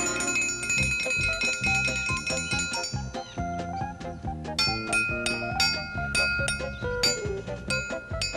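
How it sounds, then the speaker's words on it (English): A metal triangle used as a dinner bell rings out in a rapid series of bright, sustained clangs whose ringing tones overlap and carry, with repeated strikes through the whole passage and no speech. "You rang the dinner bell. Oh, dinner's not ready yet. I was just testing the triangle."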